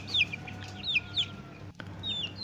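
Free-range village chickens cluck while they eat in an outdoor run, with several short, bright clucks repeating over a steady low background hum.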